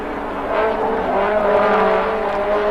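Racing cars in the 1980 AF2 Championship final round roar continuously at close range, a steady loud engine drone with rising and falling revs as a car slides sideways through a bend.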